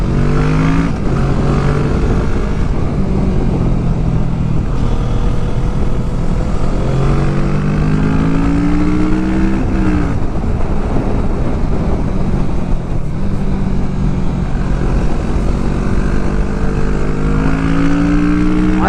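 A Kawasaki motorcycle on a road trip pulls hard, its engine droning loud and continuous with rising and falling pitch sweeps as it accelerates through the gears, and wind rush fills the background.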